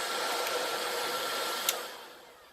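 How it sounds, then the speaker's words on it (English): A heat gun blows steadily on PVC pipe being softened for a vertical wicking strawberry planter, a continuous loud airy roar with one brief click near the end before the rush tapers slightly. "Today we're just going to try it with the heat gun"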